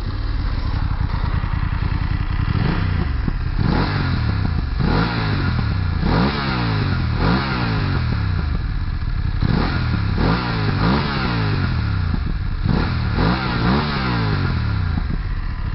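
BMW F850GS motorcycle engine, heard alone and up close, idling with a steady low throb and then blipped through a series of sharp rev rises and falls at roughly one-second intervals.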